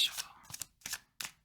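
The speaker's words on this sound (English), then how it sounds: "All right, let's shuffle." Card shuffling in quick broadband bursts, three or four riffles separated by short pauses, close and fairly quiet with no talking.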